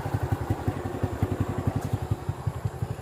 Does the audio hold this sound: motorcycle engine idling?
yes